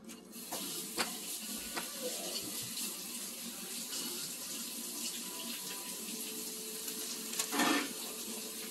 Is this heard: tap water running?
yes